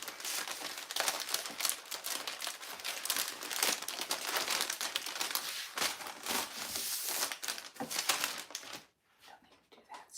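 Folded paper from a thrifted item handled close up, a dense run of loud crinkling and rustling that stops abruptly near the end, leaving faint scattered rustles.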